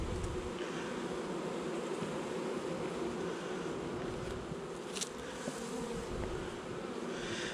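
Honey bee colony buzzing during an August honey harvest, a dense steady drone of many bees close by, continuous and moderately quiet with no voices.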